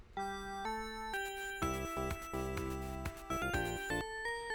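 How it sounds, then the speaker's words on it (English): Sonic 1 Starlight Zone bell samples from the Sega Genesis ring out in a steady melodic sequence of bright, sustained chimes with rich overtones, with low bass notes joining partway through, loud and clear with no talk. "The bells here are from Sonic 1"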